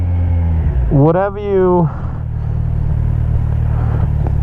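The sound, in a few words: Kawasaki Z1000 motorcycle engine while riding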